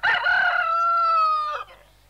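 A single rooster crows close by, one long, loud cock-a-doodle-doo that trails off at the end.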